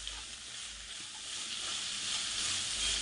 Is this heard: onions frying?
yes